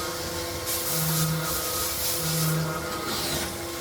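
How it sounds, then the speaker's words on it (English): A CNC machine cutting threaded holes in an aluminum part, a steady mechanical whine and hiss of machining with two brief rising tool pulses, loud and continuous, with no voices. "This is processing threaded holes."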